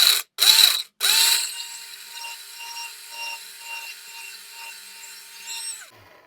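An electric grinder grinding spices for mutton chatkhara gives two short whirring pulses, then runs at full speed as a steady high-pitched whine with a rattling edge before switching off.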